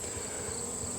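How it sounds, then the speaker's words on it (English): Honeybees in a storm-damaged wooden hive box drone in a steady, close, continuous buzz with no gaps. "I see a little ball of bees in there."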